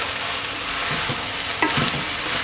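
Rosemary and Italian spices being stirred in a hot pan, a steady sizzle with a few soft scrapes of a utensil against the pan, close and fairly loud with no voices.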